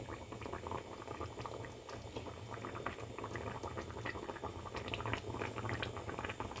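Restaurant-style Kerala fish curry bubbles gently in a pan, a quiet, steady simmer of soft pops and gurgles with no voices.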